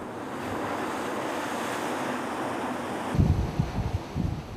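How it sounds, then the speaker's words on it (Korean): Rough sea waves crash and wind roars around a 500-ton ocean research ship heading into typhoon waters in the East China Sea, with steady surf hiss giving way to heavier, louder wave thumps near the end. "거친 파도 앞에선 500톤급 해양 탐사선마저도 속수무책, 망망대해의 돛담배처럼 흔들린다."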